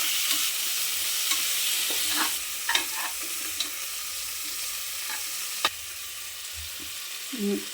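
Crushed garlic, ginger and tomatoes sauté in a pan with a low, steady sizzle, while scattered scrapes and clicks of a stirring spoon come through close by.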